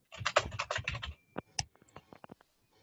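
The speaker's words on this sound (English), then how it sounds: "I'm just writing that in, Nolan." A computer keyboard clatters in a dense, close burst of rapid keystrokes, then thins to a few scattered individual key taps during a Zoom seminar.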